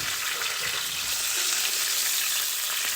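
Lamb shanks browning in a hot pan before pressure cooking give a loud, steady, close sizzle with an even crackling hiss throughout and no voices.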